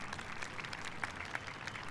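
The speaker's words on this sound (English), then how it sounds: "Let's give them another round of applause." A graduation ceremony audience applauds, many hands clapping at once in a dense, even patter heard from a distance, with a few sharper claps standing out.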